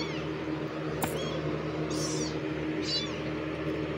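A cat meows two or three times in short, rising cries over a steady, loud background hum, close by and with no talk.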